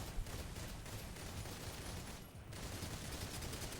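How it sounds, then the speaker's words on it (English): Gunfire from the video game Snowbreak: Containment crackles in rapid, dense bursts, faint and buried in a busy wash of game noise, with a brief lull before the shooting resumes. "let's start shooting that thing"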